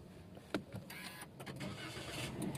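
A Toyota Agya automatic is started with its push-button, giving a sharp click followed by a brief engine crank and a faint, steady idle inside the cabin.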